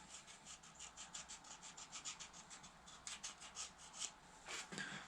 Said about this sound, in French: Alors bien sûr je gratte tout ce qu'il y a à gratter, tout ce qui s'enlève, hein.